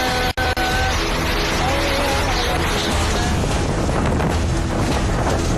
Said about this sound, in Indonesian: terlihat angin bertiup sangat kencang